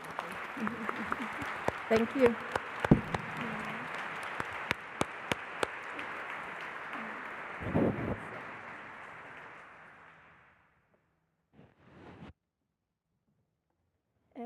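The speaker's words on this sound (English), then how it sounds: "I would like to thank all the panelists and give a round of applause to everybody." A conference audience at a forum on children and sustainable development applauds the panelists with sustained, dense clapping for about ten seconds, fading out before a brief voice offers thanks.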